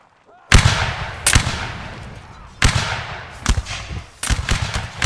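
Musket volleys crack out in a Napoleonic Wars line battle in Mount and Blade Warband. About half a dozen sharp, loud shots land at irregular intervals, each trailing off in a short rumbling echo.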